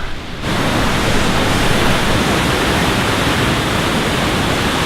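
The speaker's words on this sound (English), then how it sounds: "Just making it down to the first waterfall now" The first waterfall of a hike in the Columbia River Gorge roars in a loud, continuous broadband rush, steady and close with no voices.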